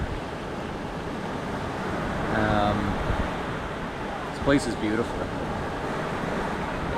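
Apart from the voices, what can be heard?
ocean waves and surf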